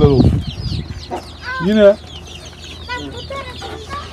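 Chickens in a farm coop, among them Brahma, Spanish and blue hens and young Indian chicks, cluck and squawk close by in short bursts, with a voice speaking briefly at one point.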